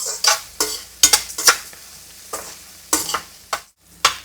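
Onions frying in a pan, stirred repeatedly with a utensil that scrapes and clinks against the metal in short bursts over a steady soft sizzle, close by and with no talking.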